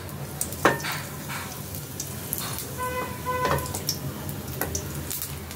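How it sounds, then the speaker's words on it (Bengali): Nigella seeds and a dried red chili crackle in hot oil in a pan, a soft, steady sizzle with scattered pops and a faint clink or two, fairly quiet and close. "তেল দেবো, এর মধ্যে দেবো কালো জিরে ফোড়ন, দেবো একটা শুকনো লঙ্কা"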